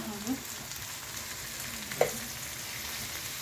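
Green peas with chopped green chili and capsicum sizzle in a hot wok, a soft steady frying hiss broken by a couple of brief scraping stirs.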